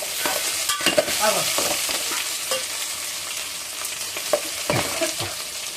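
Onions fry in a pan with a steady hiss of sizzling oil while a utensil stirs and scrapes intermittently, close and fairly loud.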